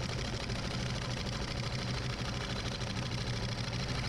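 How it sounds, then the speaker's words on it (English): A wood lathe spinning a yew bowl blank at about 800 rpm, with the machine visibly shaking, gives a dense, steady motor hum and vibration that runs unbroken and fairly loud throughout. "You can see how much the lathe is moving there"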